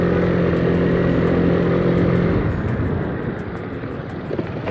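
An Aprilia SR150 scooter rides through Mumbai traffic, its steady engine drone and road rumble loud and close throughout, easing slightly toward the end.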